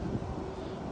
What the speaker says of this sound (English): It's kind of windy, so if it gets too crazy, I'll just have to redo it.